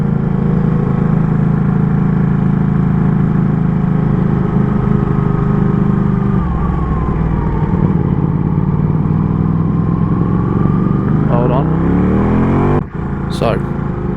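Ducati Panigale V4 Corse motorcycle ridden in first gear at low revs through tight Dolomites mountain corners, a steady loud engine rumble with revs rising and falling, wind buffeting, and a sharp clunk near the end.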